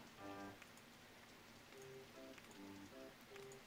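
Rain falls in the RollerCoaster Tycoon video game as a steady, even patter filling the whole clip, with the game's tonal music chiming over it and no talking.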